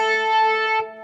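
A stock Logic synth sound is played as a single held note, its bright, harmonically rich and slightly distorted tone ringing steadily for under a second before a brief dip at the end, with no voices.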